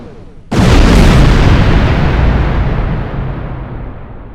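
Massive torpedo blast tearing through a hollow asteroid in Star Trek Online, a sudden loud boom followed by a long rumbling roar that slowly fades over several seconds.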